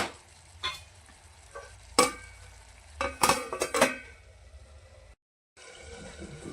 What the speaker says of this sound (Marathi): तर चला मग याला 1-2 वेळेस आपण हलवून घेऊया